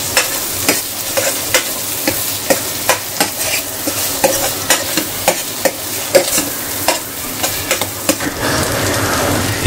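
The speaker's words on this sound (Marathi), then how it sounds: "आता आपण हे वाटण टाकूया आणि हे पण मस्तपैकी तेलावरती फ्राय करूया." Ground masala paste frying in oil with browned onions while being stirred, a steady sizzle under rhythmic spatula scrapes and taps roughly every half second, close and fairly loud, with no talking.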